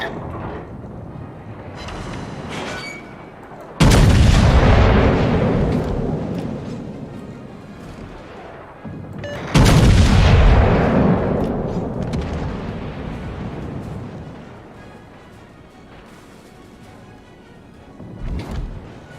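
Heavy naval guns and explosions in the World of Warships game, two huge booming blasts a few seconds apart, each rolling off into a long rumbling decay over a low steady background drone.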